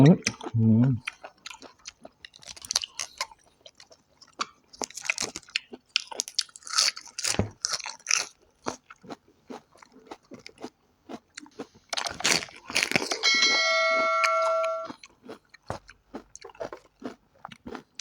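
Loud, close crunching bites and wet chewing of spicy, sour squid salad with chewy squid tendons come in irregular bursts, crisp snaps between quieter pauses, with a brief stretch of talking early on.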